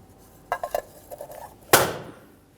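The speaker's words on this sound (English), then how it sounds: "Reinstall your center cover." A wheel center cover is refitted on a Mercury Grand Marquis: a few light metallic taps and clicks, then one sharper snapping knock as it seats, close up with no talking.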